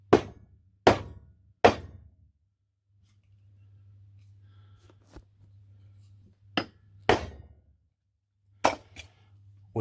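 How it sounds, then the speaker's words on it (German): Sharp metallic hammer strikes driving a firing pin into a Sig Sauer P226 X-Five pistol, three in quick succession, then a pause and a few more spaced blows, close and loud against a faint hum. "da muss das Ganze eben wieder mit dem Hammer hier eingetrieben werden"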